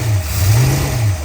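A hot rod's engine gets a short bump of the throttle, one rising and falling rev that swells and settles back, loud and close, with no talking over it.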